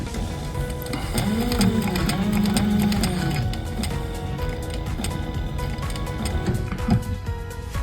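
A sewing machine stitches fabric with a steady mechanical whirr and rapid clatter, pausing and shifting as the work is turned, with soft handling noises around it.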